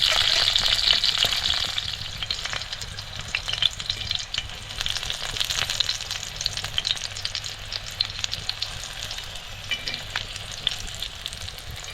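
Bell peppers fry on a hot griddle in a Konkani-style stuffed capsicum dish, giving a steady close sizzle with a soft low hum beneath and occasional crackles and taps as they are turned.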